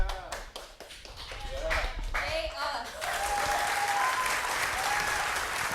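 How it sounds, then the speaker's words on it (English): A studio audience at a college talk show breaks into a warm round of applause, dense steady clapping that swells and holds after a few seconds of voices. "Let's hear a warm round of applause."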